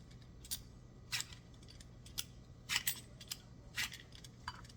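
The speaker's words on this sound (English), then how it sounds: "I'm just gonna peel the skin of this pear that I have." A fresh pear being peeled with a hand peeler or knife: a string of brief, crisp scraping strokes at an uneven pace, close by and fairly quiet. No one talks.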